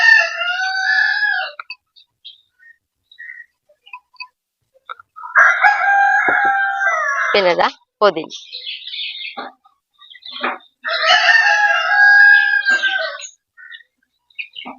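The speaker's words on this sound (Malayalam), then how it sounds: "കോഴികളൊന്ന് കാര്യമായിട്ട് കൂവുണ്ട്." Roosters crow repeatedly and loudly nearby during home cooking, with three long cock-a-doodle-doo bursts separated by pauses, brief clucks, and a few quiet words spoken between them.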